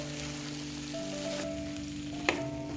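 Drumstick masala curry sizzles softly in a pan as it is mixed, a faint steady frying hiss with a low hum and one quick utensil clink near the end.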